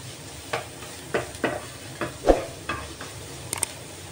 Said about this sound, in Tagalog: I-fry ko lang itong ating bawang.